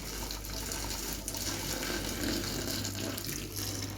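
Water runs steadily from a tap in a kitchen, a continuous even splashing pour that lasts throughout, close and moderately quiet, with no voices.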